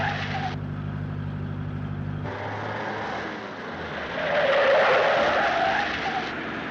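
A car in a 1937 film drives and skids, a held tonal tire screech giving way to engine and road noise that swells midway, with no talking.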